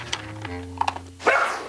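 A puppy at a firehouse in Saranac Lake, New York gives a few short, sharp yips and barks near the start and middle, with a louder burst toward the end.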